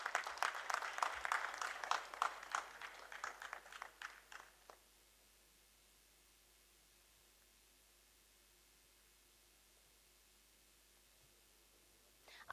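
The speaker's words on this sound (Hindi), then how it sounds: "एक बार जोरदार तालियों से स्वागत कीजिए।" A theatre audience applauds to welcome a guest onstage at a play performance, dense steady clapping for about four seconds that fades out, leaving near silence.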